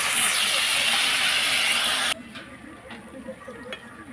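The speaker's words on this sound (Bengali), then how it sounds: "এবার জল দিয়ে দেবো" Water poured into a hot pan of fried greens and vegetables bursts into a loud, close steam hiss for about two seconds, then drops off to quiet bubbling and a few soft knocks.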